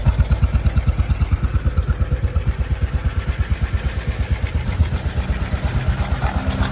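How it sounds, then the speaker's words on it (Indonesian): A 1955 BMW R25 motorcycle engine idles close by, its exhaust putting out a steady, rapid low thumping pulse with no voices. "Ini suara knalpot."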